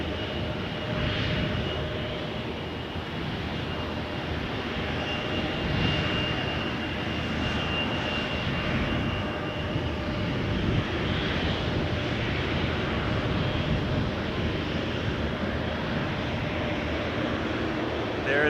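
An Air Canada Boeing 777-300 jet airliner bound for Rome taxis at Toronto Pearson Airport, a steady loud engine roar and whine that holds throughout at moderate distance.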